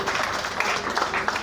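At a university gathering for the NUGA Games torch handover, scattered applause rises briefly, with distinct claps close by over room noise and murmuring voices.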